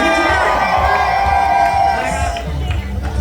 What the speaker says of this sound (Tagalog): Isang malakas na hiyawan.